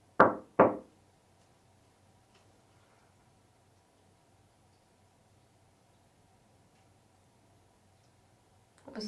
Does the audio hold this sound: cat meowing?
no